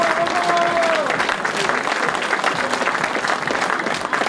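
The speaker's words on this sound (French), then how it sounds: "Applaudissements du public." Sustained crowd applause at a rally podium ceremony, dense and steady throughout with a brief whistle near the start and a few voices mixed in.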